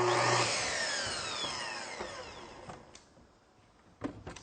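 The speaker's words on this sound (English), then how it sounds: "I'm going to be cutting through the rubber" A saw blade cuts through new rubber rail, starting with a loud whining cut that slowly winds down and fades, followed by a few scattered knocks and clatters nearby.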